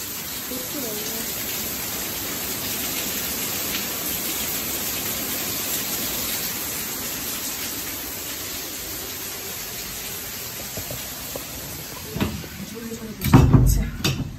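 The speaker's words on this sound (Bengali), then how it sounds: "আর আজকে এখানে প্রচণ্ড বৃষ্টি পড়ছে, মানে আজকে পুরো আজমির রাজস্থানে প্রচণ্ড বৃষ্টি পড়ছে।" Heavy rain pours steadily in Ajmer, Rajasthan, a dense even hiss throughout, with a few louder knocks and bumps near the end.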